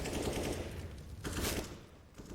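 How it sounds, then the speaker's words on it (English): Faint rapid gunfire bursts from a Counter-Strike: Global Offensive tournament match in the Vibes Cup grand final at Eden Arena Malta, a quick rattling volley fading away. "Stefan and Skrunk, 2 quick frags."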